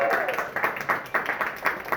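An indoor audience claps for Torrin, a brief burst of quick, rhythmic applause heard close by, with a voice speaking over it.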